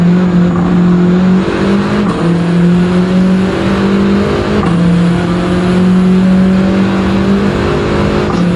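A Volkswagen Golf GTI race car in a driving video game, its engine droning loud and steady with sustained tones that shift in pitch across gear changes and throttle.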